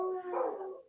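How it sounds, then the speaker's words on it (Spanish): A dog howls steadily, its drawn-out tone fading, with a fresh yelp breaking in at the end, heard in a home during a budgeting lesson. "Perdón si se escuchan los perros chiquillos"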